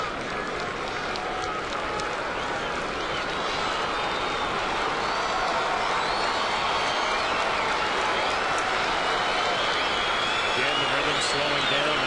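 Baseball stadium crowd at a Royals game, the roar swelling steadily and filling the background throughout, with an announcer speaking over it as the pitcher works with the bases loaded.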